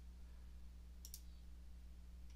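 Two quick, faint mouse clicks close together, then another single click near the end, over a low steady electrical hum while working in software on a computer.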